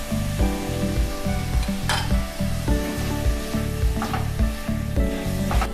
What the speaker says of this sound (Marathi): टोमॅटो आपल्याला स्मॅश होईपर्यंत परतून घ्यायचा आहे